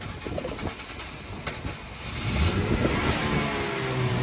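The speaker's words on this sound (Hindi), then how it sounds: "ये इसकी कुछ इंजन की साउंड है" Engine of a 2022 Maruti Dzire VXI CNG car revving, the tone rising and swelling in the second half, heard nearby with no talking.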